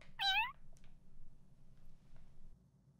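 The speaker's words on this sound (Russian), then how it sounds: "Чертов кот!" A ginger house cat gives one short, clear meow right at the start, close by, then only quiet room background follows.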